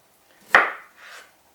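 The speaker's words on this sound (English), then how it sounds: "Just chopping out some of the bits I don't want." A knife cuts peeled vegetables for veggie soup on a board, one sharp chop followed by a softer scraping cut, close and quiet with no talk.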